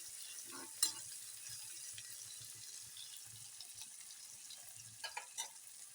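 Quiet sizzling of tempering spices in hot oil in a large pot for an onion-leaf dish, with faint crackles and a few sharp pops, low bubbling underneath.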